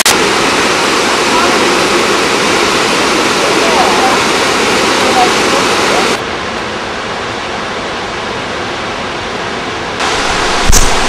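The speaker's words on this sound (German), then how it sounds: "Hier versucht ein kleiner Bach es den Wasserfällen nachzumachen." A small brook cascades like a waterfall near the Krimml Waterfalls, making a loud, continuous roaring rush that drops slightly partway through, followed by a brief thump near the end.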